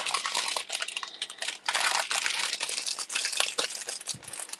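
Plastic packaging from a diamond painting kit crinkles and rustles continuously at close range during an unboxing, with dense irregular crackles and no talking.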